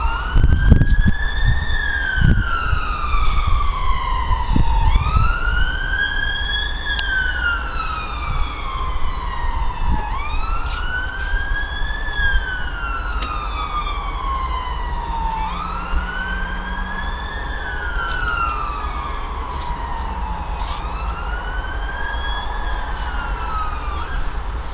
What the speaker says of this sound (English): Cue the sirens.